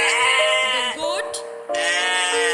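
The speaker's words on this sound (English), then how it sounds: "sound is called bleats." A goat bleats in one loud, wavering call that breaks briefly partway through and then resumes, close and alone without any background sound.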